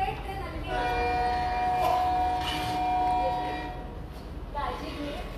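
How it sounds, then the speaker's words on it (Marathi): A train pulls into a station, its steady rumble and rolling noise filling the scene with a long tonal horn or brake squeal running through the middle; people talk nearby over it. "अगदी वेळेत ट्रेन आलेली आहे."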